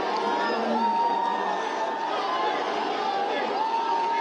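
A large, excited crowd awaits Prime Minister Modi's roadshow in Kerala, a dense, steady hubbub of chatter and distant shouts with a voice talking over it throughout.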